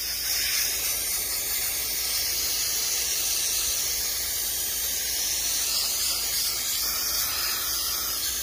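An aerosol can sprays a coat of paint onto a plexiglass box for a 2012 Ford F-150 King Ranch, a steady close hiss running unbroken for the whole stretch with no voices.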